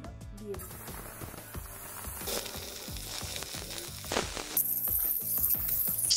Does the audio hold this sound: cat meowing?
no